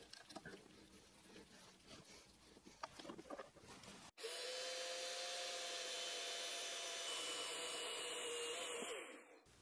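A screw cut to length in a workbench build with a power tool. Soft handling noises come first, then the tool cuts in suddenly and runs at a loud steady whine for several seconds before stopping abruptly.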